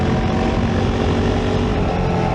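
A Kove 450 Rally (Euro 5) single-cylinder motorcycle cruises along during break-in at moderate revs, its engine drone mixed with heavy wind rush, steady and loud throughout.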